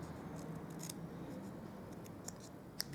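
Scissors snip card paper for a stamped reindeer card, several faint, quiet cuts with a sharper snip near the end, close up and without talk.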